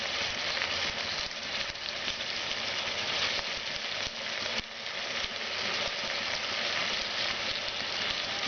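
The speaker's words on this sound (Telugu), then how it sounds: "నీళ్ళు ఏమి వేయకుండా ఈ ఆయిల్లోనే మనము ఉడికించుకోవాలి." Chicken cooking in oil in a pot for chicken pulao, a steady dense sizzle and crackle that carries on evenly at close range, with no talking.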